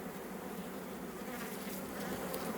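Honeybees hum steadily on a brood frame, a dense close buzzing of many insects that stays level throughout with no voices.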